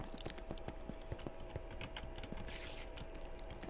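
Rapid clattering keystrokes on a computer keyboard, steady and close, with a brief burst of hiss partway through.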